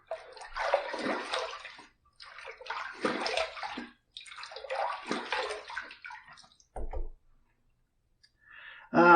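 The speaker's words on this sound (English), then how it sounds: "Let's rinse." Water runs in three steady bursts while a Muhle R41 safety razor is rinsed between shaving passes, followed by a couple of short splashes and clicks near the end.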